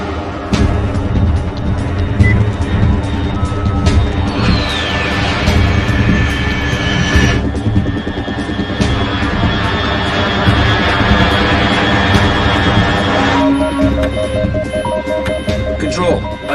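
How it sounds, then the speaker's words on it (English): An aircraft flies overhead in Metal Gear Solid 3, its steady engine drone holding throughout under a dense game soundscape with a rising whine partway through. "Control, unidentified aircraft detected."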